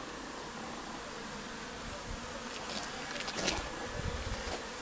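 Bees buzz in a dense, steady drone, with a few individual insects passing close and louder near the end.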